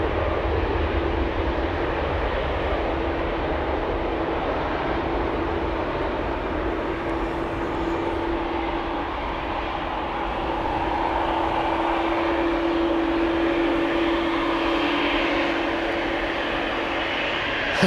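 Jet airliners depart from Amsterdam Schiphol Airport, a steady broadband engine roar that holds loud and continuous throughout, with a sustained tonal hum running underneath and swelling slightly toward the end.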